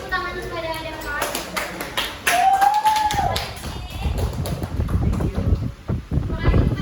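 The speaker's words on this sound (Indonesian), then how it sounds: "Beri tepuk tangan kepada adik kelas." A classroom of high school students clapping for younger students, a brief burst of hand claps mixed with voices and some scattered taps.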